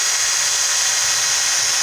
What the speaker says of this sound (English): we're going to drill a little hole just to be able to put the new speaker